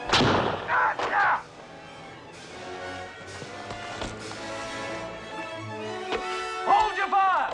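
Gunfire breaks out during a fight in a 1963 film set in England, with loud shots and bursts over shouting voices and a busy, rumbling film soundtrack.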